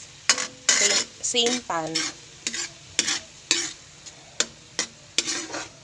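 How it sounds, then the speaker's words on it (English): Corned beef sautés in a pan, with a run of loud, close metal spatula scrapes and clanks in an uneven rhythm over sizzling. A brief spoken phrase sits between the strokes. "Nagigisa na ako ng corned beef"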